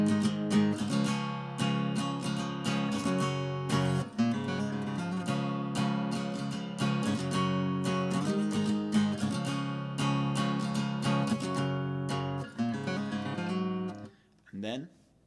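Acoustic guitar strums a full chord progression in a steady, continuous rhythm, played close and alone with no voices, then a brief pause and a few final strums near the end.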